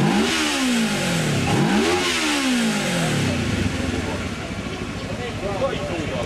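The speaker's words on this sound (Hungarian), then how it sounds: "Halljátok, csak úgy susog a blokk" A motorcycle engine with no exhaust fitted, at a motorcycle meet, heard up close as it revs up and down twice in smooth rising and falling sweeps, then settles into a softer, rougher idle.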